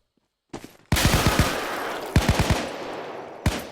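Bursts of rapid automatic gunfire in a Roblox game, loud and close, with a steady stream of shots broken into several volleys.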